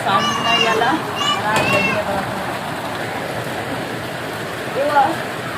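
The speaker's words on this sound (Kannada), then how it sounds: "ಮಳೆ ನೋಡ್ರಿ ಎಷ್ಟು ಜೋರದ" Heavy rain falls in a steady broadband hiss, with voices talking over it near the start and again briefly toward the end.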